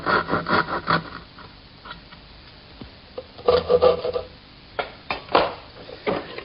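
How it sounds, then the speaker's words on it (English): A bevel is trimmed from a wooden doll house wall piece with a hand tool, producing close, rhythmic rasping and rubbing strokes in short clusters with brief pauses between. "Here I'm removing part of the bevel, the part that goes under the second floor."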